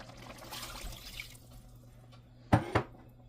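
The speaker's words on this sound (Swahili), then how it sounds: "Nitaongeza maji kidogo." A little water is poured into a simmering pot of potatoes and chicken, two short splashing pours near the end after a quiet stretch of faint bubbling.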